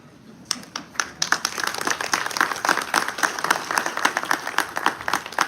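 An audience at a live Delhi High Court Bar Association lecture on cross-examination applauds, starting with a few scattered claps and swelling into steady, full crowd applause.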